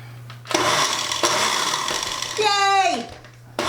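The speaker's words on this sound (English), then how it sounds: "Let's hope my blender works." Blender whipping a snack with squeezed lemon, a loud steady whirring motor that rises in pitch with a whining sweep near the end before cutting off, with a low hum underneath.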